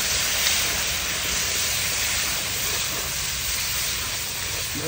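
Hot water poured into frying masala for Khandeshi shev bhaji, a loud continuous broadband hiss of steam and sizzling that holds steady throughout.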